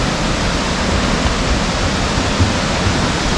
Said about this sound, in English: Black Waterfalls in West Virginia